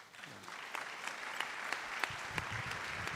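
An awards ceremony audience claps in a continuous, moderately distant wash of applause, with a few sharper individual claps standing out above the steady rattle.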